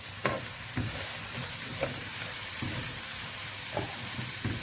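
Rice with green fava beans and dill gets stirred in a pan over low sizzling, with a few soft scrapes and taps of the spoon spaced through a steady hiss.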